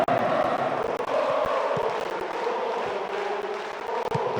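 Football stadium crowd at Liverpool versus Juventus makes a continuous, dense roar of thousands of voices, steady and loud throughout with no breaks.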